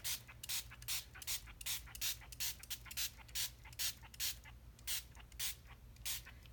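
A handheld spray bottle spritzes water in repeated quick bursts, a close, soft hissing spray pulsing in an even rhythm about twice a second over a low background hum.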